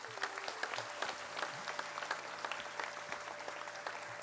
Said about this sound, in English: Can we have a thunderous applause, please?